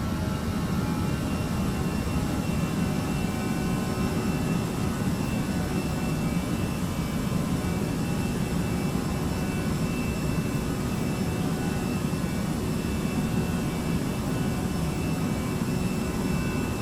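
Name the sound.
jet engines at climb thrust in FodSim flight simulator video game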